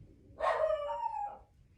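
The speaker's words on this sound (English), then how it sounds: "That is my dogs." A single dog gives a brief, whining bark-howl from inside a house, lasting about a second and heard at moderate distance in an otherwise quiet room.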